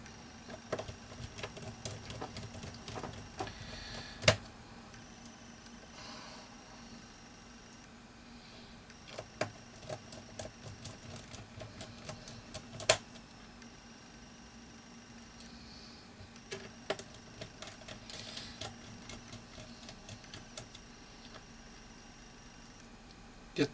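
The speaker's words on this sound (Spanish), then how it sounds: "Y ponemos los 5 tornillos que lleva." Screws being driven into the cover of an Asus A52J laptop, faint small clicks and ticks at irregular intervals, with a few sharper taps, over a quiet hum and no speech.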